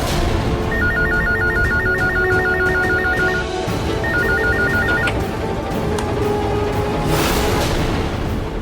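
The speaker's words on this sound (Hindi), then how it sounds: "लैंडलाइन पर कॉल करती हूँ।" A landline telephone rings indoors in a Hindi TV drama scene, with a long run of rapid electronic trills, a short pause, then a shorter second burst over a steady background hum.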